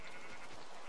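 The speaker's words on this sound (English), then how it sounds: "Sheep, get back here." A Minecraft sheep gives a single brief, buzzy bleat, heard alone and fairly faint.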